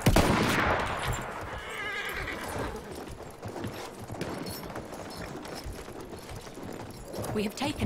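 A horse neighs loudly near the start amid clopping hooves, with scattered gunfire and voices in the background of a busy battle scene in Battlefield 1.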